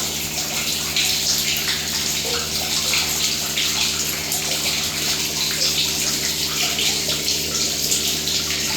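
Water rushes away down a vacuum toilet in a steady, loud, continuous gush that doesn't break from start to finish.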